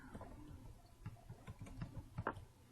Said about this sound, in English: So in the Search for Online Templates and Themes, type in Proposals